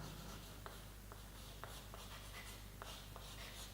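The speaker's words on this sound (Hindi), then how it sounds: "तो लिख देते हैं" Chalk or pen writing during a physics lecture, a faint scratching with light taps every half second or so as strokes are made, heard over a steady low room hum.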